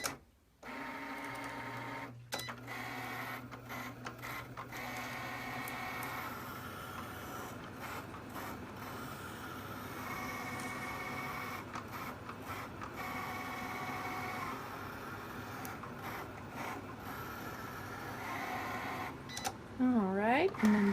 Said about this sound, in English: we're going to go back to the Cricut. And it's all ready to go again.